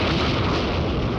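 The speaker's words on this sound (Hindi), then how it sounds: "इरप्शन।" A cartoon volcano erupting with a loud, dense, continuous rumbling blast that fills the whole moment without letup, heavy and booming throughout.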